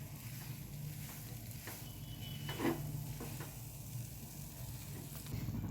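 Sesame sweet mixture stirred gently by hand in a pan, a soft continuous scraping and faint sizzle at low level, steady throughout with no talking.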